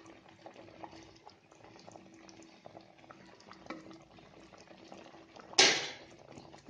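Fish curry boiling in a clay pot, soft bubbling and popping at a low, uneven rhythm, with a brief louder burst of hiss near the end.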